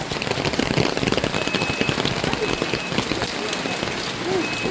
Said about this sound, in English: the rain is getting too heavy